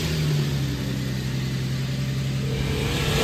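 A repaired Nissan Skyline 370GT runs on fresh 5W30 oil and coolant, its engine holding a steady, loud, close-up drone with a faint rise in pitch, heard alone without any voices.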